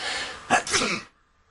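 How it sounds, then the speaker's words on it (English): A single sharp sneeze bursts out close to the mic after a breathy intake, followed by silence. "I'm going to sneeze"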